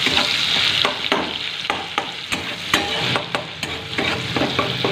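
Tomato frying in oil with a pinch of salt until soft and melting, a loud close sizzle with frequent scraping spatula strokes stirring the pan in an uneven rhythm.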